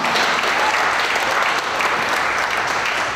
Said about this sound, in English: Let's give Mr. Jay Yost of California, the grand prize winner of the Challenger Dream Giveaway, a round of applause.